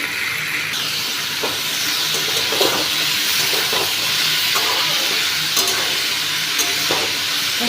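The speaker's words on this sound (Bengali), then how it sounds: "এবার নুনটা দিয়ে আর একবার নাড়িয়ে নিচ্ছি" Chopped tomato and salt fry in a pan with potatoes for a Bankura-style posto dish, a loud, continuous hissing sizzle broken by repeated scraping strokes of the spatula as the mixture is stirred.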